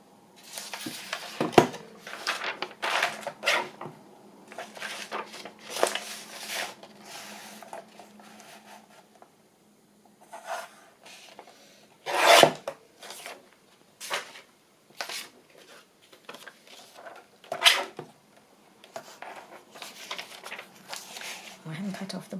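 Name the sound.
trimming paper in a journal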